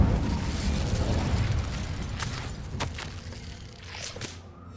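A fire spell cast in a video game, a broad rumbling whoosh of magical flame that swells and flickers for several seconds, with a few sharp crackling bursts near the end and no talking over it.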